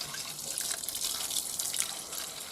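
Water is poured into a Hoover Spinarinse 3012A twin-tub spin dryer, giving a steady, fairly quiet splashing trickle that lasts the whole stretch with no voices.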